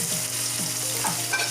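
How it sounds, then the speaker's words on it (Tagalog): Hotdog slices sauté in a hot pan with garlic and onion, a bright continuous sizzle broken by quick scraping stirs at a steady pace, close and loud with no voices. "Igisa ang hotdog."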